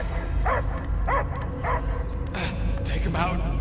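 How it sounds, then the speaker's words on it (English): A dog barks and yelps in the Guardians of the Galaxy video game, with several distinct barks spaced through a noisy, busy background and other sounds overlapping. "I hear only barking"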